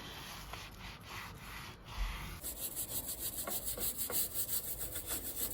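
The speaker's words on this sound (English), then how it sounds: "I'm going to rub the same mixture on these grills because these grills also have the hardest grease on them" Cleaning mixture is rubbed onto greasy stove grills, giving steady close rhythmic scrubbing strokes, coarse and repetitive, growing faster and more regular partway through.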